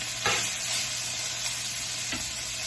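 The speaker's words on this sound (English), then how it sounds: "ground beef in here browning up. You want to make sure that you get it really nice and brown." Ground beef browning in a cast iron skillet over mid to mid-high heat, a steady close sizzle with a couple of brief scraping stirs.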